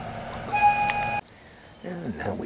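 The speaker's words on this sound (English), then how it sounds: "Sorry for that whistle, people. There's a train." A train whistle sounds in steady tones for about a second and cuts off abruptly. After a short quiet gap, a soft-spoken voice begins talking.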